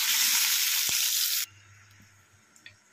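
Loud, dense hiss of tilapia fish frying in hot oil that cuts off abruptly halfway, leaving quiet room tone and a couple of faint clicks.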